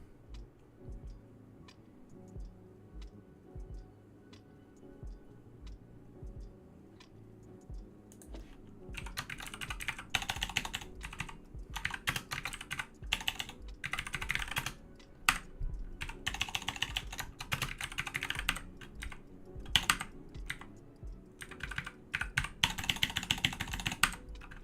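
Typing on a worn computer keyboard during a web development session, with quiet scattered clicks at first, then dense rapid bursts of keystrokes broken by brief pauses, close and fairly loud.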